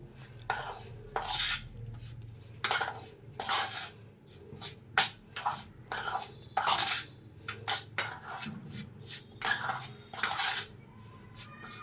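Powdered sugar stirred into dry cake mix with a spoon in a bowl, a series of sharp scraping clinks and taps against the bowl in uneven bursts with quiet gaps between them, close up and without talk.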